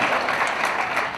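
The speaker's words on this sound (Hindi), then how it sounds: "तालियां थोड़ी कमजोर है" A poetry recital audience in Indore gives a brief, thin patter of applause lasting about a second, with a voice faintly present alongside it.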